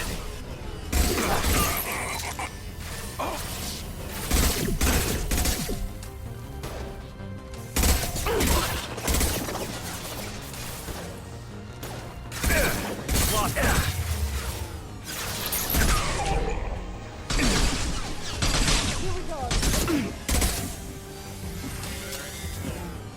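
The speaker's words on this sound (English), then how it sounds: "Firing a high impact shot." High impact gunshots from the video game Mass Effect 2 ring out as repeated sharp, cracking blasts with shattering debris, spaced every few seconds over a busy combat soundscape.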